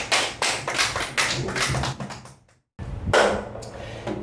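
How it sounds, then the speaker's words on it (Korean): Audience at a Korean folk song competition clapping along in rhythm before a song, a series of loud, regular clap bursts that stop briefly, then resume. "박수로 한번 주세요."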